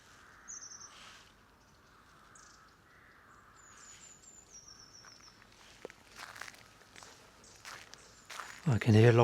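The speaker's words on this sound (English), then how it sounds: "I can hear long-tailed tits." High, thin calls of long-tailed tits sound faintly at a distance in a quiet outdoor setting, with occasional footsteps and rustling nearby.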